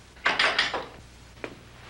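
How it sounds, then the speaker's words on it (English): An old wooden front door in a Western ranch house thumps and rattles in a quick cluster of knocks, followed by one fainter bump, close and without talk. "Did you hear that? Front door?"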